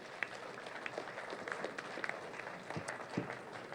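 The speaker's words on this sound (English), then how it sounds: "Please say a round of applause to him." Audience applause at a trade union congress national delegates' conference, steady distant clapping with a few sharper claps, fairly faint.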